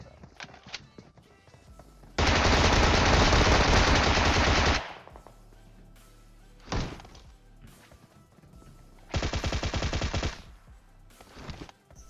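Two loud bursts of rapid automatic gunfire from a Bizon submachine gun in the mobile shooter PUBG Mobile, a long spray and a later shorter one, with a single sharp shot between them against quiet game ambience.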